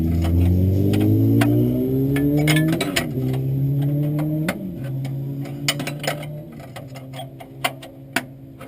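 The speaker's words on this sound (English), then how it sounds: "Lovely sound of sport bikes." Sport bikes revving and passing by outdoors, a loud rising engine drone that sweeps past in the first few seconds, then a second quieter pass, with sharp clicks and knocks nearby toward the end.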